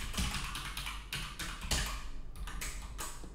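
Rapid keystrokes on a computer keyboard, a steady run of close, crisp taps with a few heavier clacks, continuing throughout with no talking.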